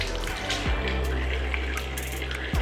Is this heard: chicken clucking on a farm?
no